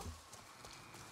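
Soft, steady clip-clop of horse hooves in the video game Avatar: Frontiers of Pandora, faint and somewhat distant, with no voices over it.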